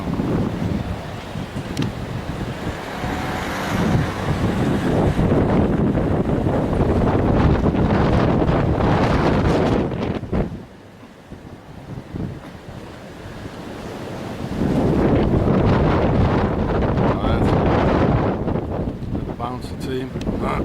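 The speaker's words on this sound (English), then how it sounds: "It's so windy, I can't keep my camera still." Strong wind buffets the microphone with loud, continuous roaring gusts over crashing surf at Carex, easing briefly midway before surging again.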